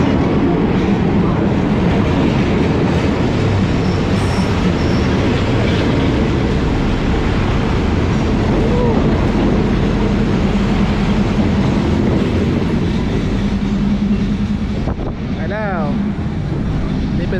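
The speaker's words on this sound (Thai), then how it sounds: "มาแล้วครับทุกคน รถไฟมาแล้ว" An ordinary commuter train on the Mahachai–Wongwian Yai line rumbles loudly and continuously past at close range as it arrives at Wongwian Yai station, Bangkok, with heavy wind buffeting and a short squeal of brakes near the end.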